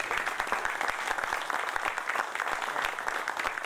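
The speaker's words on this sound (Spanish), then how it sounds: "para el cual pido un aplauso" An audience at a commemorative event applauds a professor being introduced, a steady, dense round of clapping filling the hall throughout, close and lively, with no speech over it.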